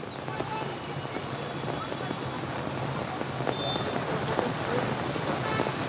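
Heavy rain pours steadily onto a flooded Salt Lake street in Kolkata during office hours, a dense continuous hiss of drops hitting water and pavement with a few sharper splashes, close and unbroken.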